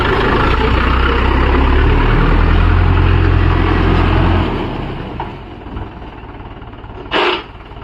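A Mahindra 415 DI tractor engine runs loud and steady for about four seconds in farmland, then drops to a quieter idle, with a brief sharp burst near the end.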